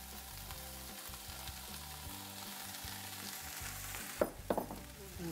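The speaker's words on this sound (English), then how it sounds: "now I'm going to throw the mushrooms in" Mushrooms frying in a pan for a healthy meatloaf, a quiet, continuous sizzle with a couple of brief stirring clatters toward the end.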